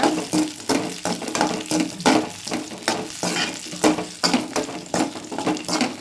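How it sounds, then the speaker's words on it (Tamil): Coconut sautéed in a pan, with close, repeated scraping stir strokes over a steady frying sizzle and no voices. "நல்லா வதக்கி எடுத்துட்டு தேங்காயை போட்டு வதக்கிக்கிறோம்"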